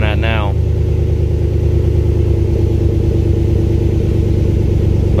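A 2021 Chevrolet Silverado with the 6.2 V8 idles steadily, a loud, close, continuous low rumble with a brief voice at the very start.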